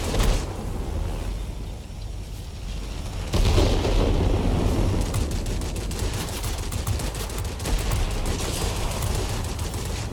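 Dense rapid aircraft machine-gun fire from a Japanese Army Zero in the World of Warplanes combat flight game, a sustained loud rattling burst that swells sharply partway through amid engine roar.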